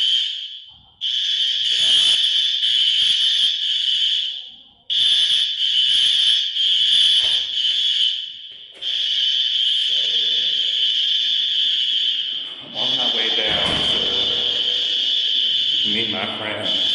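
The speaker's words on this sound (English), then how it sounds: "Fire alarm is going off in the hotel." Hotel fire alarm blaring in long, shrill, high-pitched tones broken by short pauses, loud and persistent, with faint voices and movement underneath toward the end.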